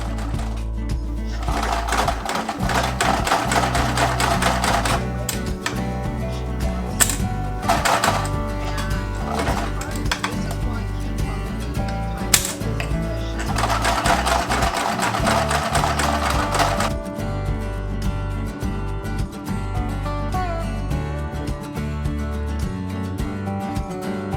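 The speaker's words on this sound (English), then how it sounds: "then you are just sewing all the pieces together" A sewing machine stitches together fabric pieces for a homemade birthday banner. The motor runs in steady, loud bursts of fast rhythmic whirring, with short pauses between seams, and no one talks.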